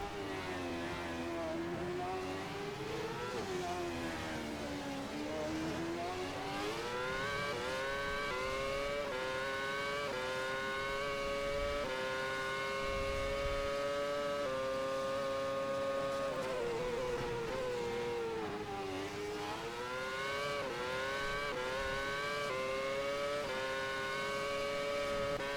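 Race cars in a sim racing game at the Malaysian Grand Prix, engines droning steadily with rising and falling pitch as they shift and pass, a continuous loud roar with no talk.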